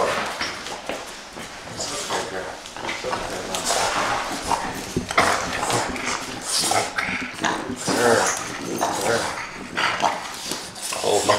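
Dog barks come repeatedly, close and loud, mixed with scuffling, handling noise and voices in an indoor French Bulldog breeding setting.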